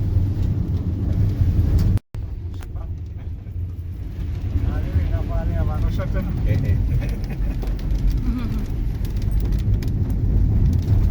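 Rain falls steadily on a car driving home, a continuous wash of rain and road noise heard from inside, with a brief dropout and faint voices under it.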